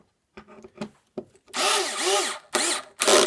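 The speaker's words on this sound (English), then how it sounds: "the red oak we definitely want to pre-drill" A power drill whirs in short bursts, then runs longer with its pitch rising and dropping as the screw bites into red oak, close and loud.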